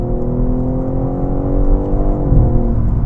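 A 2024 BMW M3 Competition Touring six-cylinder engine hums and revs steadily up close, its tone rising and then dropping near the end, with no voices.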